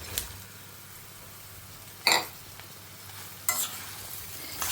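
Dal and dried chillies frying in a pan, a soft steady sizzle running throughout with two brief louder bursts of stirring or scraping.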